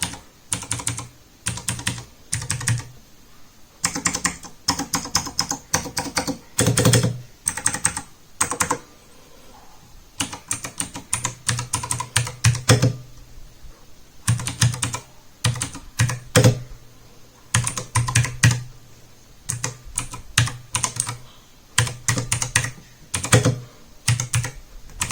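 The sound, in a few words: typing on Zebronics Zeb Max Ninja mechanical keyboard, blue switches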